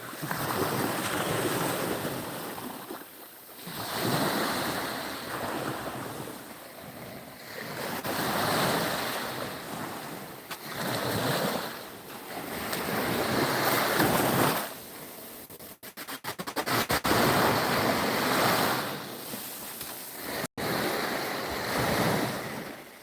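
Aegean sea waves wash repeatedly onto a seaweed-covered shore at Salihleraltı near Dikili, a steady rolling surge and hiss with wind buffeting the microphone and no talking.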